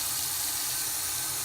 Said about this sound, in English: Now let's add a little more water.